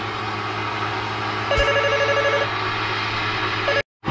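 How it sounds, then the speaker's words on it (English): A phone rings indoors in repeated electronic tones over a steady background hum, with one short ring burst, a pause and a further ring before a sudden cut. "And my phone's going off the hook."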